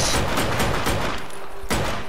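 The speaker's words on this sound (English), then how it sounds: "I'm gonna try and shoot his tires out." Rapid gunfire aimed at a car's tires in the Just Cause video game, a dense, loud stream of shots filling the whole moment without pause, with no voices over it.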